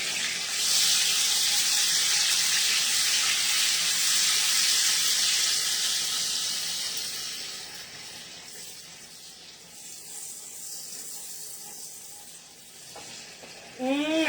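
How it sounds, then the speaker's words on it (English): Garlic sizzling in a pan for shrimp and bacon pasta, a loud, steady hiss that eases slightly partway through before a brief clatter at the very end. "I do love the smell of cooking garlic"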